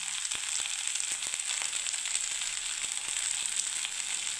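Spices with chilli powder and turmeric fry in a pan for a bottle gourd and milk shukto, a dense steady sizzle broken by sharp scraping clicks of stirring, close and fairly loud with no voices.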